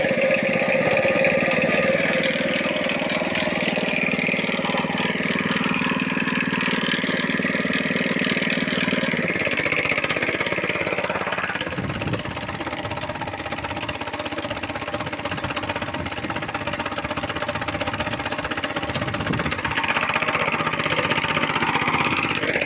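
A heavy six-cylinder diesel tractor engine runs continuously up close, a loud rumbling chug that shifts in tone midway as the revs change.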